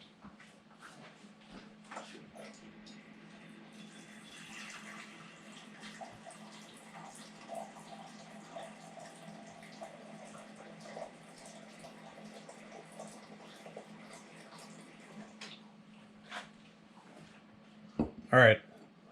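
Tap water running steadily into a cooking pot in a home kitchen, a low continuous pour with some handling clatter, ending in a few louder knocks near the close.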